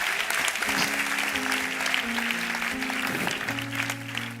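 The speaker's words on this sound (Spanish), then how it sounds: "Si ese es el aplauso, dáselo mejor al Señor" Church congregation applauding during a sermon, broadband clapping wash sustained throughout with organ or keyboard chords held underneath.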